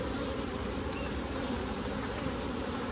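Honeybees buzz around an open hive during an inspection, a steady, dense drone of many wings close to the microphone with no talking.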